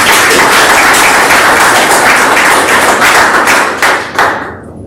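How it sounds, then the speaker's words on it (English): A round of applause in a meeting room, a steady wash of clapping from a group that holds loud and even, then thins and fades out near the end. "A round of applause."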